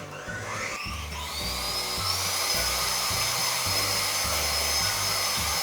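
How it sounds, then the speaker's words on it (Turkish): An electric mixer whips half a litre of cold cream for a chocolate cake, a steady high motor whine with a rhythmic low pulsing as the beaters turn, close and continuous without any talk. "Yarım litresini buraya döktüm ve iyice çırpıyorum."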